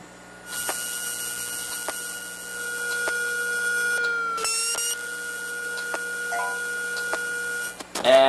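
A failing chip on a hard drive gives a steady electronic whine with periodic ticks and a brief shrill burst, followed by a short low-battery beep from a Pocket PC near the end; close and alone.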